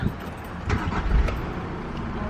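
A car driving on a road, heard from inside as a steady low rumble of engine and tyre noise with a few brief bumps, continuous throughout.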